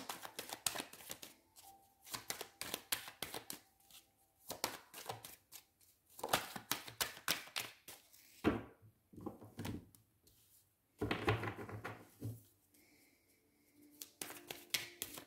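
Tarot cards are shuffled in repeated quick riffling bursts separated by short pauses, with soft taps and slides as cards are drawn and set down, close and fairly quiet.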